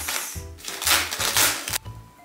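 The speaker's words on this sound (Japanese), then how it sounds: "ハサミで切ります。" Scissors cut open the plastic bag around a compact hug pillow body pillow, heard as several close, crisp rustling snips in quick bursts with brief pauses between them, no talking.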